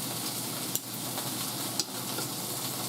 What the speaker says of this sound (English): I want to make sure my chops are laying evenly so they cook.